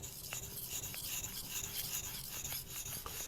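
Shirogami steel knife drawn in long strokes across a Japanese natural whetstone, giving a faint, continuous gritty rasp with soft rhythmic scrapes.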